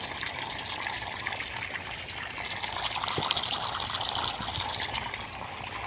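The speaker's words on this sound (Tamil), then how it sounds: "இந்த இடத்துல அந்த டியூப் கொஞ்சம் தட்டி விட்டதில் வர்ற தண்ணியில் வேகமாக வர்றதுனால தெரியுது" Water gushing from a tapped drip irrigation tube in a tapioca field, a steady close hiss and trickle running evenly throughout with no voices.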